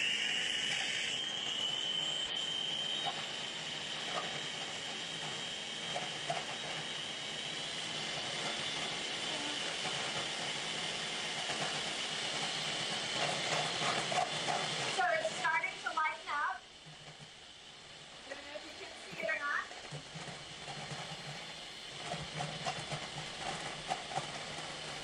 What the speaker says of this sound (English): Or I could use my mixer.